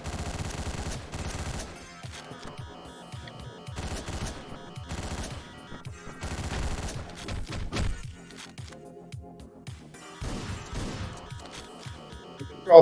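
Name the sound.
gunshots in the video game Hotline Miami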